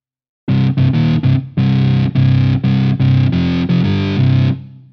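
Distorted power chords struck through a guitar amp in a Guitar Amp vs Non Guitar Sounds comparison, likely a synth patch from Omnisphere, roughly ten loud chopped chords in quick rhythm, each cut off sharply, ending with a short fading ring.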